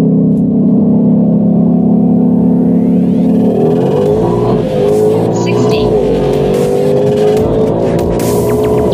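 A 2021 Ford Mustang Shelby GT500 with the carbon fiber track pack accelerates hard, its engine note climbing through gear changes in a loud, close, rising roar, while a voice speaks over it.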